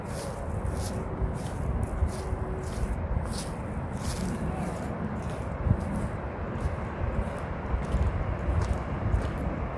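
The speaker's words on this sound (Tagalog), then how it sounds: "ang tunog ng tubig." The Spring River near Hardy, Arkansas, flows with a steady, dense rush of water, continuous and fairly close, with no talk over it.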